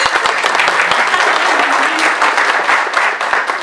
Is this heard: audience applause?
yes